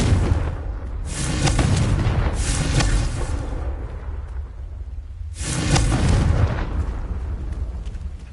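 Loud booming fire explosions from the Confringo spell in Hogwarts Legacy, two big blasts with a long rumbling roar and a gap of quieter crackle between, no talking.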